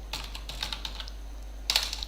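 Keys clatter on a computer keyboard in short bursts, a quick run of taps followed by a pause and a second louder flurry, close and alone over a steady low hum.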